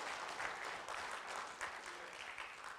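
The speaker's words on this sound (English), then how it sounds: "Y'all ought to clap." A church congregation claps continuously in a steady wash of applause, fairly faint and distant, with no clear voices over it.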